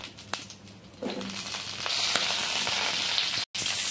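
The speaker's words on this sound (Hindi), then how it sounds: "हम उसी पैन में हम ये गोभी को तल लेंगे" Cauliflower pieces frying in oil in a pan that has just been used to fry vegetables, a steady soft sizzle and crackle that grows after the first second and holds to the end, with one brief dropout near the close.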